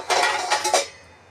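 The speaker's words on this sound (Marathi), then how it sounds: "मला 2 झारे लागणार आहेत, बघू शकता." Two metal slotted ladles (jhara) being handled in a home kitchen, producing a brief cluster of close metallic clinks and scrapes that fades out fast into quiet.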